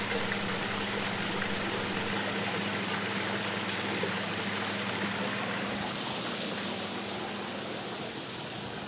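A backyard waterfall gives off a steady, broad rushing roar of falling water, constant and moderately distant, with a faint low hum from a sump pump working on a 300-gallon reef tank nearby.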